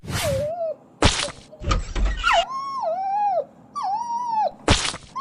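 A dog indoors whimpers and whines in repeated rising and falling cries, broken by a few sharp, loud barks.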